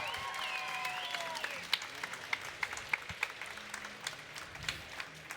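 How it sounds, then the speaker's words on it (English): Audience applause at New York Comic Con 2015 for manga artist Masashi Kishimoto, a dense, moderately quiet wash of clapping from a large crowd with a few sharper nearby claps standing out and faint cheering tones early on. "if you would actually just stand and give this individual a round of applause for the amazing things that he"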